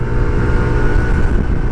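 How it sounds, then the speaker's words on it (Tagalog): A RUSI Adventure X 150i scooter engine accelerates with a steady, loud humming drone that holds close and even throughout, with no voices. "Malakas din ang motor ng Rusi. Humuhuni siya, parang aeroplano."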